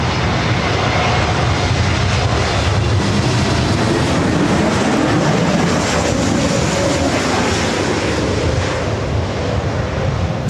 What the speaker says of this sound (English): Say 321 Neo with Delta coming in from Seattle, flight 2914